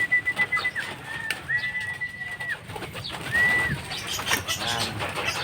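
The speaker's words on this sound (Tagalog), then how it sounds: "Ito may mga kalapatids sa kapitbahay. Napakadahing ibon." Soft pigeon coos in a few short calls, with a faint whistle-like chirp and light background noise; no talking.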